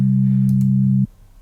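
A steady sine-tone chord of C3 and G3, a perfect fifth, holds as one smooth, loud, unwavering pure tone for about a second and then cuts off abruptly.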